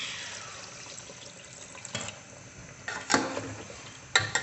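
Water is poured into a simmering mutton and potato curry, giving a soft, steady hiss of liquid with a few sharper splashes and clinks near the end, without talk.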